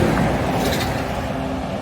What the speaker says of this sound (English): please excuse the road noise